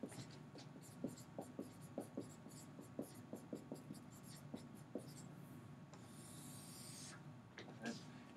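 Pen strokes scratch across a graph sheet in a quiet room, a string of short close scribbles in uneven rhythm, faint, ending in a longer rubbing sweep.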